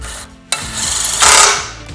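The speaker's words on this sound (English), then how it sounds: "Now you will see me use a drill here to get these tightened" Power drill tightening bolts on a Vantech H2.1 cargo rack crossbar atop a RAM ProMaster van, a short close whirring burst that swells to a louder grinding peak before easing off.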